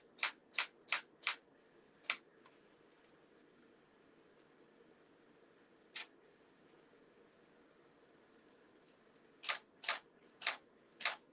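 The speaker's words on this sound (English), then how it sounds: "has that shutter going fast, trying to capture my movements" Rapid camera shutter clicks, a quick burst of four, then single clicks near 2 and 6 seconds and another burst of four at the end, crisp and close in a quiet room during a painting session.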